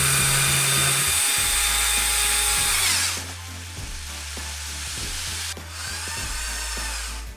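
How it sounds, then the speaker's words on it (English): Eight LEGO L-motors geared together run under heavy strain, a loud steady motor whine with a low droning hum that shifts pitch and drops in level partway through, with brief surges and stutters. "Because we have 8 motors running in it"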